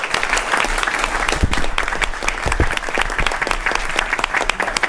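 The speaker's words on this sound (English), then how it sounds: "let's give these guys a round of applause." A council meeting audience in Surf City, North Carolina gives fire and police department members loud, sustained applause, a thick wall of clapping with a low rumble of crowd movement beneath it.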